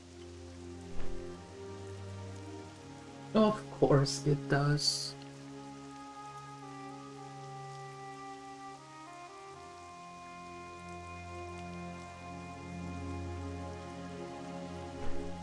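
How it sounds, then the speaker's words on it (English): Steady rain falls in the World of Warcraft Classic game, a continuous soft patter under ambient game music, with a few brief sound effects and a voice speaking briefly. "And it rains."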